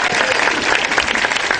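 An audience at a televised Ramadan show claps steadily, a dense, loud wash of applause from many hands that fills the whole moment without voices.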